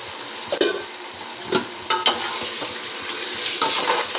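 Marinated chicken with green chilies is stirred in a hot pan for biryani, a spoon scraping and clacking intermittently over a steady close sizzle, with no talk.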